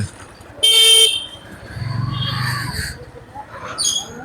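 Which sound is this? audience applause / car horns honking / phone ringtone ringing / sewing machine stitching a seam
car horns honking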